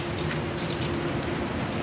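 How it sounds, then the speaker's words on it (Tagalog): Steady morning rain patters on surfaces outdoors at 6:15 a.m., a dense, even hiss with scattered drops and no voices. "ganitong panahon ngayon umuulan"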